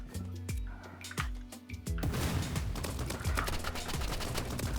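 In the Roblox game Rivals, gunfire comes as sharp, rapid shots over music, sparse and scattered at first, then a dense, nearly continuous burst of fire for the last few seconds.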